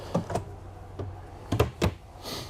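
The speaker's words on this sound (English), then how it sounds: "We'll pull out drawer here." A drawer slides out of solid wood cabinetry in a 2022 Newmar Dutch Star RV kitchen, several soft close thuds and clicks in a quiet room.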